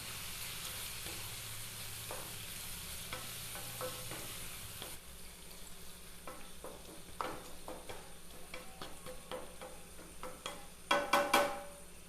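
Chicken liver pepper fry sizzling in a pan with salt and spices, stirred steadily with a spoon; continuous soft frying hiss with a few sharper scraping clinks near the end, no talking.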